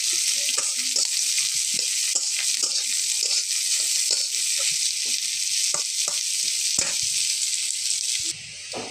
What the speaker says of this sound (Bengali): আমি পেঁয়াজ রসুনগুলো এভাবে ভেজে নিলাম লাল লাল করে।